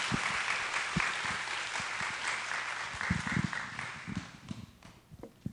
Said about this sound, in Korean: 박필영 선교사님 나오실 때 우리 뜨거운 박수로 모시겠습니다